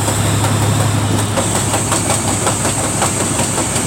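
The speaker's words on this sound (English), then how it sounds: "We're going to clutch the neutral, rev, and clutch it into gear." Tractor trailer diesel engine droning loudly and steadily, with a low tone that rises as it revs during a double clutch downshift, mixed with rattling cab noise and repeated clicking.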